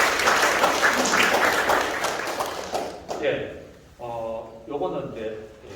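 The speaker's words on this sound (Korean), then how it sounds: "우리 큰 박수 부탁드립니다" A crowd claps together at a celebration for a company's Daegu-Gyeongbuk branch relocation, a thick burst of applause that fades after about three seconds, then someone speaks alone.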